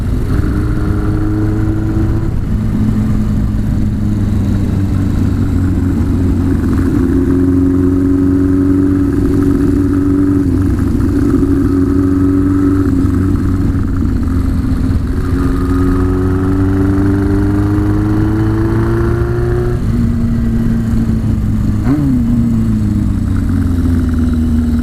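Motorcycle engine heard while riding on a touring trip, a loud, steady close-range drone with gradual rises and falls in pitch as the rider shifts and accelerates, wind rush underneath throughout.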